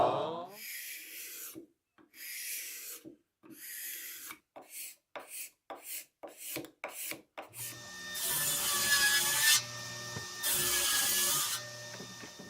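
The freshly cut side of a wooden board is flattened by hand to remove ridges. Separate scraping strokes come close and clear, growing quicker and shorter, then give way to a louder, sustained abrasive rasping at the end.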